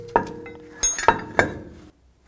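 Metal clinks and clanks as a brake caliper is lifted off its hanger on a 2009-2018 Ram 1500 during a rear brake job, a few sharp close knocks within about two seconds.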